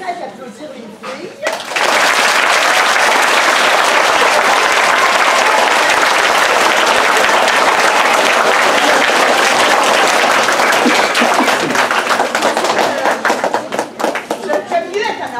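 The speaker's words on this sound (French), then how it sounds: "Alors, on peut peut-être applaudir les filles." An audience gives loud, sustained applause for a group of girls at a public speaking contest. It starts abruptly after a brief quiet moment and holds as a dense, full wall of clapping before easing slightly at the end.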